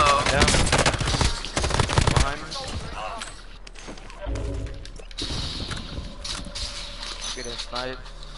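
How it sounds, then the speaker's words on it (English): Gunfire rattles in the Warzone video game, rapid shots loudest in the first couple of seconds then thinning into scattered cracks and game noises, with a player talking throughout. "I'm getting sniped at, bro."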